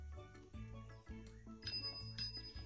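A bell rings in the adventure game The Captain, a few quiet chiming strikes with bright lingering tones over a low background music bed, fairly faint and without talk.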